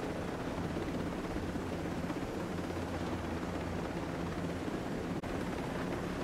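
Continuous helicopter rotor noise in the video game Tom Clancy's Ghost Recon Breakpoint, a dense steady rumble and whir that holds at an even level throughout.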